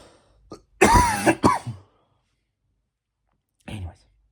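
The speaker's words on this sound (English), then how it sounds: "I feel like I'm gonna cough my lungs out." A man clears his throat and coughs in a harsh, close burst of several rough hacks, then after a short quiet pause gives one smaller cough.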